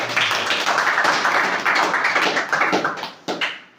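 An audience breaks into loud, dense clapping for a man named Aman during a talk on becoming a complete man, sustained and close for several seconds before thinning out, with a final burst near the end.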